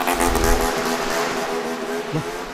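A motorcycle passing along a forest track: a brief engine drone rising and fading as it goes by, moderately loud, with no talk heard.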